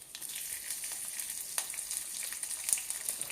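Ginger pieces and green chillies sizzle in hot oil in a pan while upma is being made: a steady, soft, crackling hiss with small pops throughout, close and unbroken.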